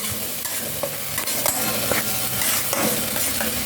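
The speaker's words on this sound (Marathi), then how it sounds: "हा कांदा लसूण अद्रक हे जे होतं ते भाजून घ्यायचं आता आपण हलवू" Onion, garlic and ginger roasting in a pan for Maharashtrian chicken rassa, stirred with repeated scraping strokes over a constant close sizzle, fairly loud and without voices.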